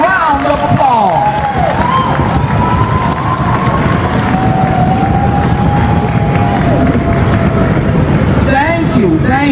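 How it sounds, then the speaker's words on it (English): Loud, sustained audience applause and cheering from a standing crowd at an elementary school Black History program, a dense wash of clapping lasting throughout with a brief voice heard over it near the start. "Stand to your feet and let's give them a round of applause."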